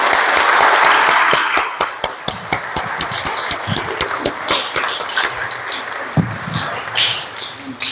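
A conference audience gives a priest loud applause at a talk on the Virgin of San Juan, a dense burst of clapping that thins into scattered, distinct claps toward the end.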